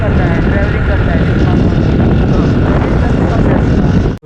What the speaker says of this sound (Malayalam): ഇവിടെ വെക്കുമ്പോൾ നല്ല കാറ്റുണ്ട്